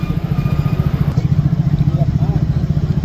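A motorcycle engine runs steadily nearby with a rhythmic low throb throughout, heard alone without talk over it.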